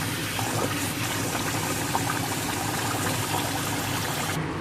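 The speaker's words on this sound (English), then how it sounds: "I'm using some nice warm water." Warm water runs steadily into a pot while food is washed, a continuous close, even rushing flow with no breaks and no talking.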